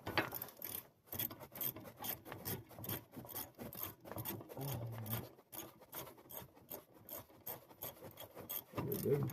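A hand ratchet clicks in quick, uneven bursts while tightening a bolt on a Chevy Silverado 1999–2006 during a rotor change, close and fairly faint, with short pauses between strokes.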